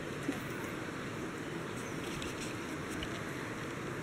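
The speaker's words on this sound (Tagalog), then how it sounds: "Naririnig mo yung tunog ng batis." A stream flows near a mountainside spot in La Union, giving an even, steady wash of running water with no break and no voices.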